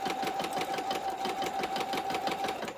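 A sewing machine with a quarter inch foot stitches fabric in a fast, steady mechanical whir with rapid regular needle beats. It runs continuously, close and moderately quiet, with no speech.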